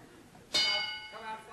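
A single bell tolls once, struck sharply and then ringing out with a long, shimmering decay in a quiet room.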